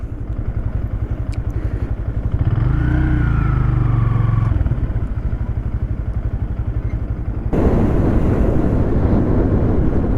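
A 2025 Honda Grom SP motorcycle rides along at close range, its small engine putting out a loud, steady pulsing drone with a brief rising rev in the middle and heavy wind buffeting near the end.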